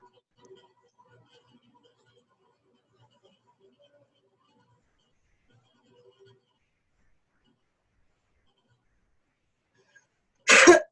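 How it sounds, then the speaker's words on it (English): A single short, loud cough or throat clearing bursts out near the end of a long, almost silent stretch during a quiet meditative channeling session. "you're ever clearing your throat and then you cough"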